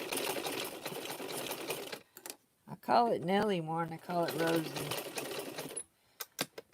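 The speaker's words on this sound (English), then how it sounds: "Let me get this sewing machine going first." A sewing machine whirs in short bursts with pauses between runs, while a person talks over it nearby.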